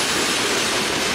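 Freight train bound for Conway, Pennsylvania rolls past on a windy day along the Willard line in Ohio, a steady loud rumble of railcars and wheels close by, with faint clickety-clack and some wheel squeal and no talk.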